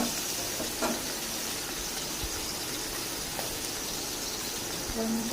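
Pieces of boal fish frying in a pan: a steady, loud sizzling hiss that fills the whole stretch, with a few faint pops and spits.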